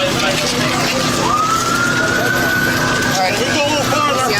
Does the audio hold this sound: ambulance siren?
yes